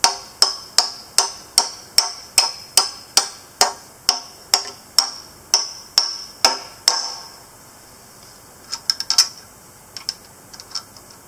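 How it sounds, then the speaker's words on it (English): Hammer tapping awning support beams into tight mounting holes, about fifteen sharp, evenly spaced strikes over seven seconds, then a pause and a few lighter scattered taps. "Good to have a hammer to kind of help these in if your hole is a little tight."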